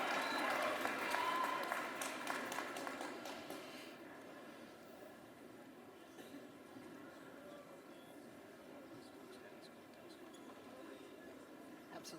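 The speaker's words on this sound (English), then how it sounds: "it is okay, in fact encouraged, to clap for your friends and loved ones" Crowd applause for graduates at a university commencement, fairly strong at first, then thinning within a few seconds to sparse faint clapping in a large echoing space.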